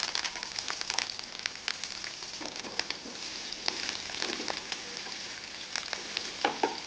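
Oil sizzles and crackles steadily with dense popping spits, prawn karapaniyaram batter ingredients frying close by with no talking.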